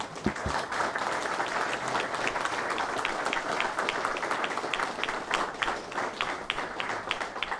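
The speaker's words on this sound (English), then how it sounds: "he deserves a huge round of applause" A room of guests at a rugby club's history book launch gives a long, even round of applause, many hands clapping densely and continuously at close range with no talk over it.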